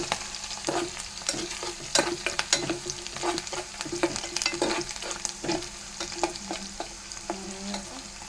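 Dried red chillies and curry leaves spitting and crackling in hot ghee for the tempering of a Telugu nei pappucharu, with steady close sizzling, sharp pops and spoon-stirring scrapes throughout.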